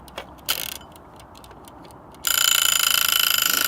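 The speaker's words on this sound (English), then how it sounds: "This is an egg timer" A wind-up egg timer used as a homemade pulley rig ticks with a few sparse clicks, then breaks into a loud, continuous rapid mechanical ringing rattle that carries to the end.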